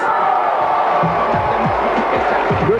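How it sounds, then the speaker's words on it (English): A large audience at the 1995 Source Awards reacts as Outkast wins, producing a steady, loud roar of mixed shouting and cheering with individual voices cutting through. "When they went to grab the award, the crowd would have a very split response."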